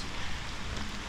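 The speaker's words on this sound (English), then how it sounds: "So it's really raining" Steady rain pours down with a continuous, even hiss and patter, no voices present.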